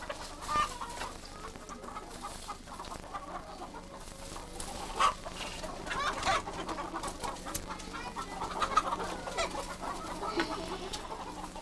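Domestic hens clucking, with repeated near and mid-distance clucks and calls over a low steady farmyard background, no voices.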